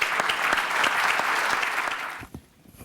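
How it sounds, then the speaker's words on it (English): A room of people applauds after a speaker at a mayor's public event, a brief burst of clapping with distinct individual claps that fades out after about two seconds. "let's give him a round of applause"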